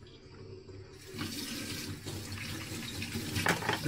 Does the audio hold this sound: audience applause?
no